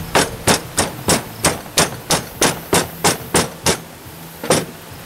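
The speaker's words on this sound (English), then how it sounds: "Air tamping" A pneumatic air tamper packs casting sand on a rattling table, giving about a dozen sharp, loud, evenly spaced hammering bursts, close up and with no talk.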